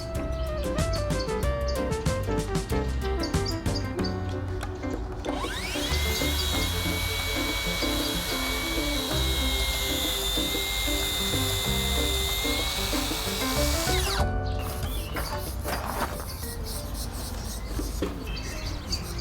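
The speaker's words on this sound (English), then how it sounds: "I used the dip saw to cut strips with a beveled edge from the plywood sheet" A plunge saw cuts beveled strips from a plywood sheet. A loud, close motor whine holds steady through the middle of the cut, rising in and dropping off, with busy workshop clatter and rattling around it.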